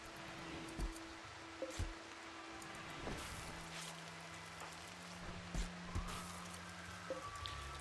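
Rain falls in a survival video game during a fight with a large creature, a soft steady hiss scattered with individual drop taps, fairly faint, with a few low sustained tones and occasional dull thumps alongside.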